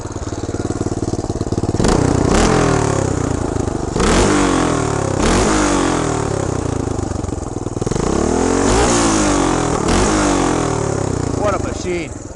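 A vintage 1975 Honda Redline Powroll 412cc motorcycle engine revs hard and close, with several rising and falling throttle blips over a loud, rough idle.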